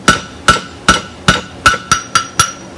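A hammer strikes hot metal eight times in a quick, even rhythm, hitting down the corners of a hook, each blow close, loud and ringing briefly.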